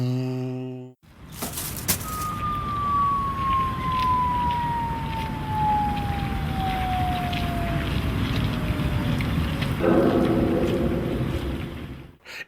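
A long descending whistle falls steadily over about eight seconds above a wash of broadband noise, an exaggerated effect for litter dropping into a novelty deep trash can, ending in a short clatter near the end.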